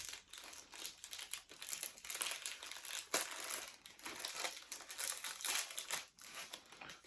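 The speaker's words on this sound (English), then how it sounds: "I wasn't expecting this much tape for a Black Series figure." Tape is peeled and torn from the packaging of a Star Wars Black Series Magnaguard action figure, a steady crackling, crinkling rustle close by for several seconds with no voices.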